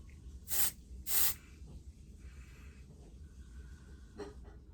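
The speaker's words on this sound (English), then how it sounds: "So this is just a finishing spray." Hair finishing spray is sprayed from a can in two short, loud hissing bursts close by, followed by a fainter, brief puff later on, with quiet handling sounds in between.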